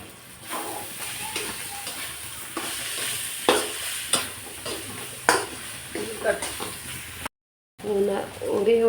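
A spoon stirs and scrapes through semolina in a sizzling hot pan with irregular strokes, and a voice talks over the cooking.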